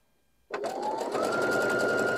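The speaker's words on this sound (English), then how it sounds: "Just make sure you've got it sewing on the correct side" A sewing machine starts abruptly and stitches quilt block fabric at a steady, rising whir, loud and close with no talking.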